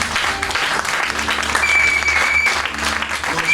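A church congregation applauds together, dense continuous clapping at close range with a few voices and a held tone mixed in, sustained throughout.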